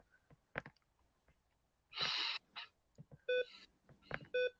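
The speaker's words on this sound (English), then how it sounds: "Let me take this charger out. It's making that beeping sound." Two short electronic beeps from a charger, spaced about a second apart, amid soft clicks, rustling and a burst of handling noise.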